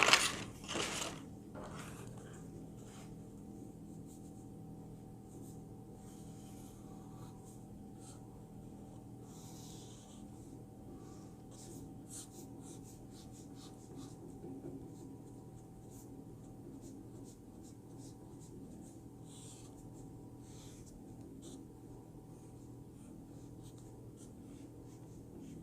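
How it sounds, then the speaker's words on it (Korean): Pen scratching across paper while drawing a connected shape for a handmade pop-up book, a soft continuous rubbing with short strokes, steady over a low background hum, no talking. "두 번째 모양을 빼서 연결된 그림을 그려줍니다."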